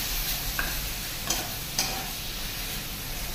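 Whole spices sizzle steadily in a hot pan for chicken biryani, with a few soft scrapes of stirring standing out against the continuous frying hiss; no one speaks.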